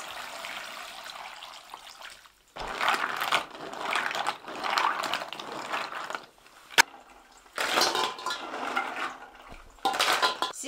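Water splashes and sloshes over large river snails being rinsed in a basin. The pouring and swirling comes in several loud bursts separated by quieter pauses, with no voices.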